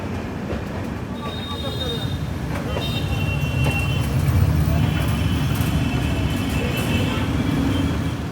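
The 12496 Pratap Superfast Express, running from Kolkata to Bikaner, rumbles along the rails with a steady clatter and occasional wheel squeals, heard from inside at a moderate, continuous level.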